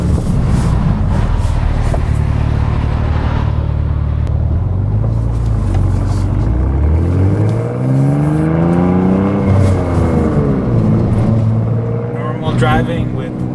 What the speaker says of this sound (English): Driving with M sound off in Sport Plus, it's not bad, just no burbles.